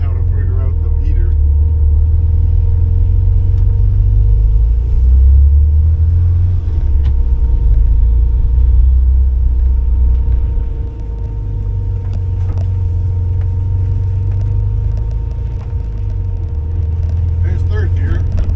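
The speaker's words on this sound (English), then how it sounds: "There's third gear." A 1979 Porsche 924 drives in third gear, its engine a loud, steady low rumble from inside the car that dips briefly midway and then carries on evenly.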